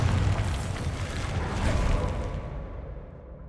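A Bombarda spell explosion in a Harry Potter video game roars loud and close as a broad, sustained rumbling blast that slowly fades out.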